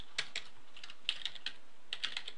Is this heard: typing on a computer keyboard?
yes